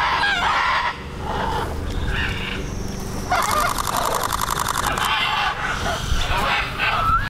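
Macaws call at the ancient Maya ruins of Copan with repeated harsh, raucous squawks, some loud and near, in an overlapping rasping chorus over the whole stretch.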